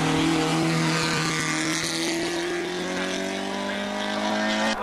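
A vintage race car idles and revs at the start line of a hill climb in Ajdovščina, a loud, steady, rough engine drone close by with no break in the noise.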